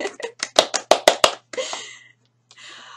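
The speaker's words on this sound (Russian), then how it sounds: "Где ваши аплодисменты для будущих директоров?" Close, crisp hand claps come in a quick rhythmic run of about eight for future directors, then give way to softer, scattered noise and a brief pause.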